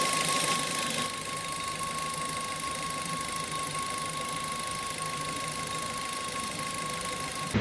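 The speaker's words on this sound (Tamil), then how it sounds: "வரும்போது வண்டி இன்ஜின்லேருந்து ஒரு சின்ன நாய்ஸ் மக்களே." A Maruti Suzuki Ertiga with a small fault noise from its engine, running with a steady mechanical whir and a faint continuous whine, near and moderately quiet, with no speech.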